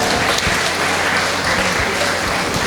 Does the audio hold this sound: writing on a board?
no